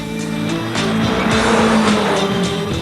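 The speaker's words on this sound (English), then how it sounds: "people who've been doing wicked things with their cars can drive them as fast as physics will allow" Tuned hot hatches, including a Peugeot 205 GTI, driven hard around the Knockhill race track, with a loud, continuous engine roar rising in pitch and tyres squealing through the bends.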